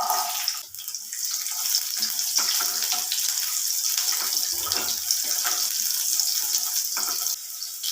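Shallots frying in hot coconut oil in a pan, giving a steady, bright sizzle that runs close and fairly loud throughout with no talking.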